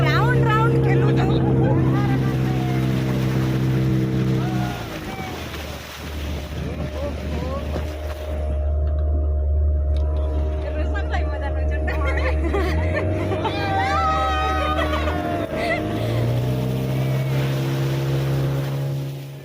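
A boat moving on dam water at Tikhali dam in Nuapada, a low steady engine drone with water wash and strong wind buffeting the microphone, under loud continuous talk and voices nearby.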